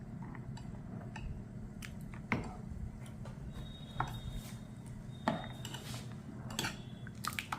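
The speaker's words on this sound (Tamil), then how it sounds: "எல்லாத்தையும் நல்லா மிக்ஸ் பண்ணிக்கிடுவோம்." A spoon stirs rice porridge with buttermilk and small onions in a pot, scattered soft scrapes and clinks over a steady low background hum, fairly quiet.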